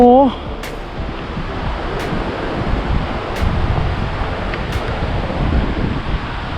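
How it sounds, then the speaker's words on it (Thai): Strong wind blows constantly through the large Tham Than Lot Yai cave at Ban Khao Lek, a continuous rushing roar buffeting the microphone, with a few faint knocks in the background. "ตอนนี้มีลมพัดตลอดเวลาเลยครับเพื่อน"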